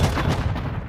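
Gunfire in a video game rumbles loud and dense, a continuous heavy burst of booming shots with no gaps in under a second.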